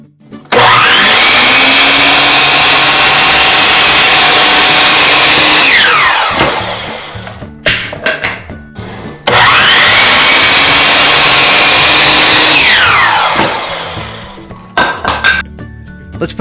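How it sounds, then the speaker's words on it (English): A compound miter saw cuts custom baseboard in two passes, each a loud, close motor whine that spins up, bites through the wood and winds down, followed by clanks and knocks of the blade and board. "With my compound miter saw, we'll cut these two edges."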